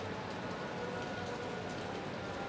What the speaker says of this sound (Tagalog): Ayan, guys, sumuulan. Ang lakas ng ulan.